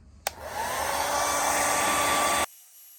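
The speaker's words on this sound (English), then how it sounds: "so you don't have to sit here and listen to a hair dryer run" A hair dryer switches on with a click and blows steadily for about two seconds before cutting off abruptly, leaving near silence.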